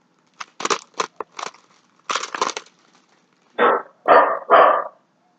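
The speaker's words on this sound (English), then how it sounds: "My downstairs neighbor's dog is barking, and that set my dog off." Some crunchy rustling, then three loud, close dog barks in quick succession.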